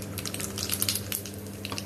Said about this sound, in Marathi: ती चांगली तडतडली